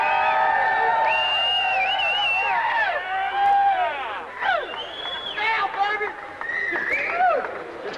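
A crowd at a 1992 bikini contest in Long Beach, California whoops, whistles and cheers loudly for a contestant, shrill overlapping shouts rising and falling over a few seconds.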